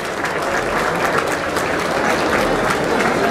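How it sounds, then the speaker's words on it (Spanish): Dense, steady applause from an audience at the opening ceremony of Soundcheck Expo 2019 in Mexico, a continuous wash of many hands clapping throughout without pause. "Fuerte el aplauso, por favor."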